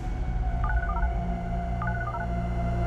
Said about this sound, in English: picks up his phone, and dials the number